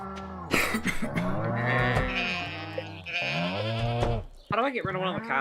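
Cows in the farming game Stardew Valley moo loudly and repeatedly in long, close, overlapping calls with brief pauses between them.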